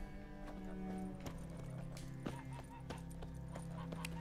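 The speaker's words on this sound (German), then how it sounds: "Ich will nicht auf Pferd aufsetzen, ich will auf Plötze aufsetzen" Horse hooves clip-clopping in a steady rhythm in The Witcher 3: Wild Hunt, with game music and ambience underneath and an occasional whinny-like sound, moderately loud and continuous throughout.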